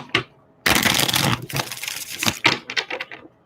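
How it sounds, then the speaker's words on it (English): Tarot cards riffled and shuffled in quick bursts, a long crisp flutter of cards followed by shorter snapping riffles and taps, close and clear with no talking. "One more shuffle."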